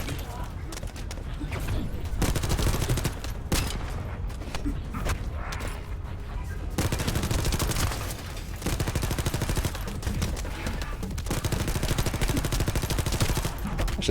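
SMG fire in a first-person shooter game rattles in rapid, sustained bursts across the whole stretch, loud and dense, with mechanical clicks mixed in and a voice talking in the background.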